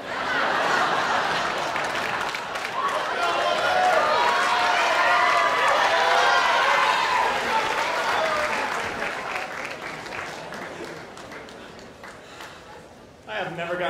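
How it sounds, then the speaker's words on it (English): A large crowd applauds at a school commencement ceremony, steady, dense clapping building and holding loud before tapering off, with some cheering mixed in. "I've never gotten so much exercise clapping before"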